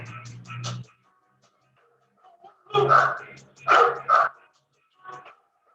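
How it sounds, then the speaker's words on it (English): Several short dog barks come in small bursts with brief pauses between them, fairly close and clear. "There are 3 dogs."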